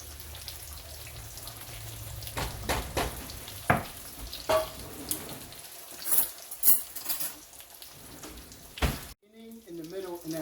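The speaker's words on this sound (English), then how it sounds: "You want to make sure that you stir your sauce so that it doesn't burn on the bottom." Sauce stirred in a pan over the heat for chicken parmesan, a spoon scraping and sloshing in uneven strokes over a steady sizzle, ending in a brief gap and a short burst of voice.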